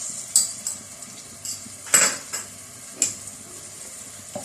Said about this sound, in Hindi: लहसुन अदरक की पेस्ट के साथ थोड़ा सा इसको भूनेंगे